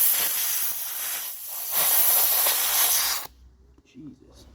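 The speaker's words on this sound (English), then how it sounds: "I aired up the air compressor" Compressed air hisses loudly from an air compressor line while inflating a tire on an MTD snowblower, a harsh spraying rush lasting a few seconds before cutting off, followed by quiet handling noises.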